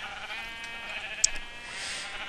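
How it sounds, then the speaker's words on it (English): Sheep bleating in the Minecraft video game, a flock of about twelve in a barn build, with a steady high, buzzing game bleat running throughout and one sharp short blip in the middle. "Aiden, why'd you spawn so many sheep?"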